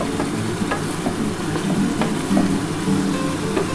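Chicken sizzles with tomato sauce and soy sauce in a pan, a continuous loud frying hiss broken by repeated light scrapes of stirring.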